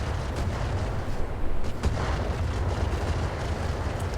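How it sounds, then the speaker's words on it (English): Mech weapons firing in a modded BattleTech (RogueTech) game, a dense, continuous rumbling barrage of booms and blasts that holds loud and steady throughout, with a slightly heavier burst partway through. "Fire full weapon"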